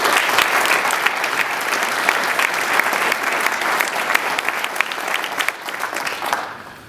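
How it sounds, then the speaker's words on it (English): Sustained, dense audience applause for athletic department committee members at a Montana State football coach press conference, steady and loud for about six seconds before thinning out at the end. "let's give them a round of applause, please"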